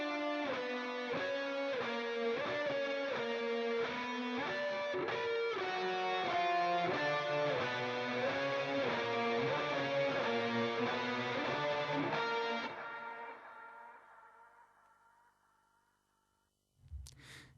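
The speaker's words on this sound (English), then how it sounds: "there's a lot of reverb and a lot of delay in it. Gives it a nice spacey effect." Ambient clean guitar octave chords drenched in heavy reverb and delay, ringing steadily and loud for about twelve seconds before a long spacey fade-out tail, with a brief thump at the very end.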